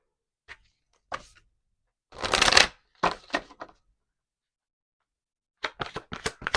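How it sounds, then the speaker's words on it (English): An angel deck of oracle cards is shuffled and cards are pulled, heard as close, crisp riffles and snaps in short bursts separated by silence, with a longer shuffle in the middle. "let me pull some cards from my angel deck"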